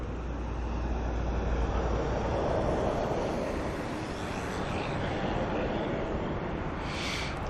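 Boeing 777 jet airliners at Auckland Airport give a continuous broad roar from a distance, a steady rumbling wash that swells gently and lingers, with a brief higher hiss near the end.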